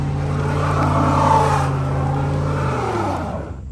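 A GMC Denali truck engine laboring off-road, a steady loud drone that shifts and drops in pitch near the end as the truck strains over rough ground.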